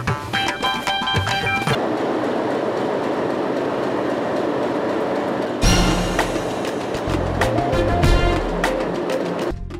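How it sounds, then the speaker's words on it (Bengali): A passenger train runs with a steady rumble, the clickety-clack of wheels on rail joints and metallic rattling, loud and continuous for the whole stretch, swelling again in the second half. No one speaks. "কই থামাইলো ট্রেনটা"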